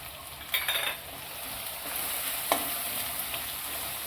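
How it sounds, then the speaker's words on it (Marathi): Masala paste sautés in a pan with turmeric, asafoetida and coriander powder, giving a low steady sizzle with a few spoon scrapes and clinks. No talk is heard. "वाटण चांगलं असं परतून घ्यायचं।"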